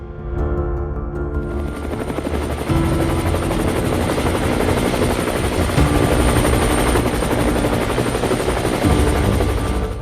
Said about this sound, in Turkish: Türkiye'nin ilk genel maksat helikopteri Gökbey.